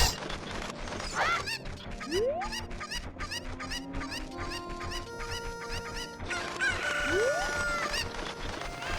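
Chickens from The Legend of Zelda: Ocarina of Time cluck and crow in a dense, rhythmic run of game-style calls, with rising squawks rising over a busy backdrop of repeated clucking.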